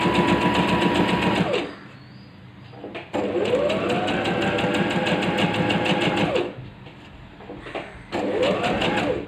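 A sewing machine joins strips of cloth scraps for a patchwork seat, running in long steady bursts of rapid stitching with short pauses between runs.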